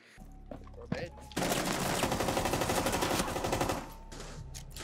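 Video game gunfire: a few isolated shots lead into a long, loud, close automatic burst lasting a couple of seconds. It then tapers to scattered quieter shots, with a voice speaking faintly around the shooting.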